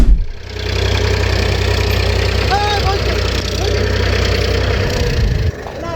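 A tractor engine idles steadily up close, a loud low rhythmic chugging throbbing throughout before cutting off near the end.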